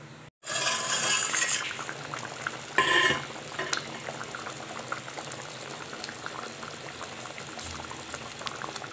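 Water poured into a simmering pot of snake gourd kootu, a steady liquid rush and bubbling that starts abruptly after a brief pause, swells with a louder splash, then settles into continuous close boiling and gentle clinks, with no voices.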